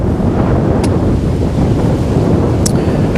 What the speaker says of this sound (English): And as you can hear, the wind is blowing